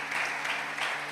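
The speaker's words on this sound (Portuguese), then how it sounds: "Pode aplaudir nosso pastor?" A church congregation applauds the pastor during a Portuguese-language service, a dense, steady wash of many hands clapping throughout the short moment.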